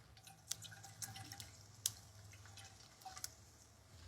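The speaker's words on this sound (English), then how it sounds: "we're just going to go ahead and put our fresh squeezed orange juice" Fresh squeezed orange juice poured into a pan with honey, heard as faint, close drips and small splashes scattered over a quiet kitchen background.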